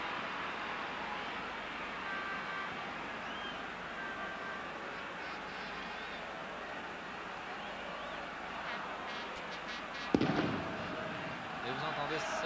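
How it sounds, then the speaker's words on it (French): A football crowd at a 1971-72 Bastia versus Olympique de Marseille match, a steady, distant roar of cheering with a sharp bang near the end and a commentator talking over it. "vous entendez certainement les encouragements pour l'Olympique de Marseille"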